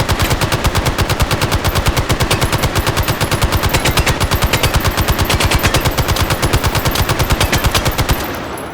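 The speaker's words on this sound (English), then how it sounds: "so those are the M60s" An M60 machine gun in the Call of Duty video game fires one long unbroken burst of evenly spaced, loud, close shots, stopping abruptly near the end with a short ringing tail.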